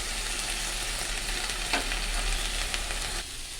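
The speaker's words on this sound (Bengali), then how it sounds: "শাকটা ছেড়ে দেবো।" Leafy greens fry in a pan while being stirred, producing a soft, even sizzle with occasional scraping touches that fades slightly near the end.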